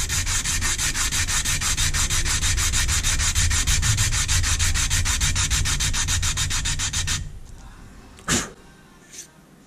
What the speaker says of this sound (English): we've also gotten these nice deep grooves in here from the 80 grit sandpaper for the epoxy to grab